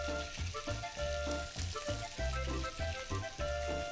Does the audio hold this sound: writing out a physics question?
no